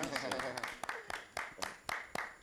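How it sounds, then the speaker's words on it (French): A studio audience on a television show gives brief, sparse applause: a dozen or so sharp separate claps in an uneven rhythm, fairly close, with a voice talking underneath. "Merci, chers téléspectateurs, on va applaudir aussi"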